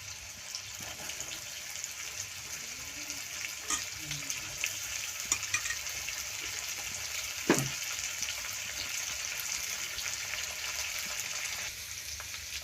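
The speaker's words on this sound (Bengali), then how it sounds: "গাজর কুচিগুলো হালকা করে ভেজে নেব" Chopped carrots frying lightly in white cooking oil for wedding-style fried rice, a steady soft sizzle running throughout with a few faint utensil clicks and one sharp knock near the middle, no voices.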